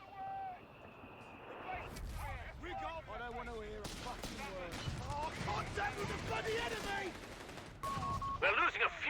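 Mortar and small-arms fire in the video game Company of Heroes 3 rattle in quick bursts and scattered pops, a busy, distant-sounding battle soundscape with someone talking over it.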